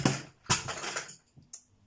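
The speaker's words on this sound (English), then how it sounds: "It wouldn't be one of my videos if I didn't drop my pencils on the floor" Coloured pencils tipped from a tub clatter onto a hard floor close by, two rattling bursts followed by a couple of lighter clicks as they settle.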